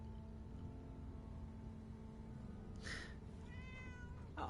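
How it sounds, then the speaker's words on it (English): A little gray cat in the video game Fallout 4 gives a short meow, faint and brief against a steady low ambient hum, with a second quick sound near the end. "It's a little gray cat."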